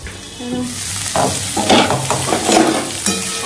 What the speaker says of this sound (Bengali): ফুলকপিটা পেঁয়াজ রসুন দিয়ে করবে কিনা সেটা জিজ্ঞেস করছিল। তো মাসি এখানে ফুলকপিটা চাপিয়ে দিয়েছে।